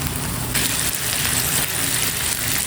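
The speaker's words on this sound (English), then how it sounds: "I went ahead and put some bacon on" Bacon sizzling on an Aldi flat-top griddle, a steady, dense crackle and hiss that swells slightly after the first half second and holds loud and close throughout, with no talking.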